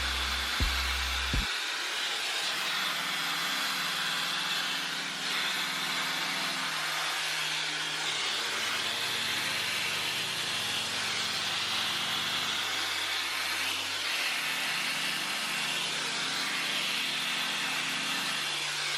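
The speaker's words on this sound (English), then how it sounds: "I'm gonna go ahead and blow dry this." A hair dryer runs steadily for the whole stretch while blow-drying hair treated with a slippery, watery serum, a constant loud airy whoosh with a low hum whose pitch shifts slightly as the dryer moves, no talking.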